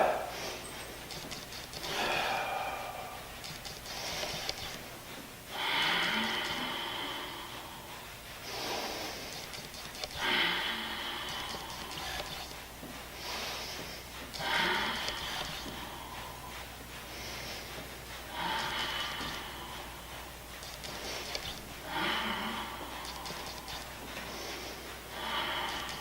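Breath pumping through the Pilates hundred exercise on a mat: a steady series of strong, rhythmic exhale bursts, close and fairly loud, each lasting a few seconds and separated by short pauses across the whole stretch.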